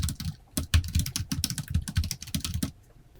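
Rapid, steady typing on a computer keyboard while working through an ITQ Excel exam exercise, with close, crisp key clicks in an uneven rhythm and no voices.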